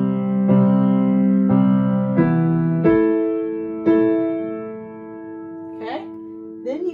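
A slow piano phrase from a song: sustained chords struck one after another and left to ring, with a voice speaking briefly at the end.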